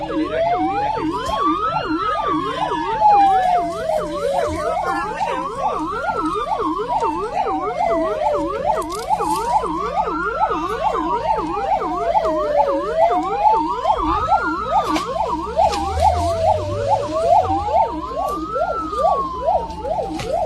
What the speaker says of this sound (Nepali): यहाँ देख्न सक्नुहुन्छ एम्बुलेन्सलाई मात्र यहाँ जान